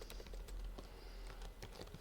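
Keys tapped on a computer keyboard while writing Python code in PyCharm, a quick run of close, clicky keystrokes with short pauses, faint over a low room hum and with no talking.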